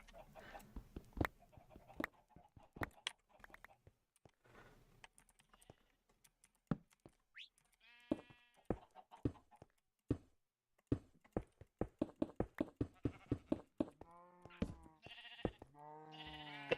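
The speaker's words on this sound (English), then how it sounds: "Should I breed more sheep?" Minecraft sheep bleat several times near the end, short wavering cries over a quiet in-game scene broken by frequent sharp clicks and taps.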